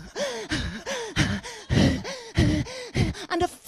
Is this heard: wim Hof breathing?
yes